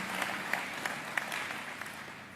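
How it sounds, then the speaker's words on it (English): Applause from the audience at the 2018 Jobs Summit: a faint, even wash of clapping with a few sharper individual claps standing out, heard alone without talk. "let's give them a round of applause for the wonderful work that they have been doing"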